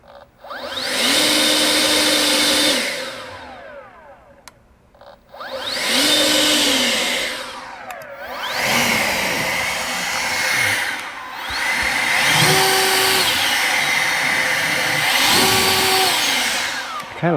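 An EGO LB5302 cordless battery leaf blower on turbo roars in several long bursts, each winding up with a rising whine and tapering off between blasts, loud and close.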